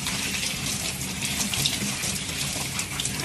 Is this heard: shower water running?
yes